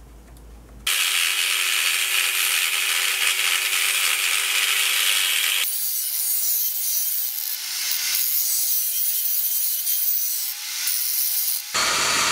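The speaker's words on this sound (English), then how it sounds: "I'll then cut off a piece of steel for the motor to bolt onto." A piece of steel being cut for a lathe motor mount, a loud steady rasping cut running almost unbroken for about eleven seconds, its tone shifting partway through, with no talking.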